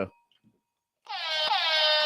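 A loud air horn blares for about a second after a short quiet gap, holding a steady, brassy tone to the end.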